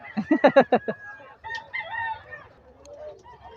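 Gamecock stags crowing nearby, a rapid burst of loud clucking pulses followed by drawn-out, wavering crows, with fainter crowing from other birds trailing off behind.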